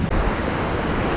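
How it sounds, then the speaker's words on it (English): Ocean surf rolls onto the rocky, cold coast of Acadia National Park, with wind buffeting the microphone; a steady, loud broadband roar of waves fills the clip with no pause. "Look at the waves coming in."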